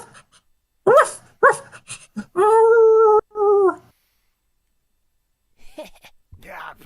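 Cartoonish dog barking from the video game Monster Prom: two short yelps, then a longer sustained bark-like howl and another brief one, with silence after and faint sound near the end.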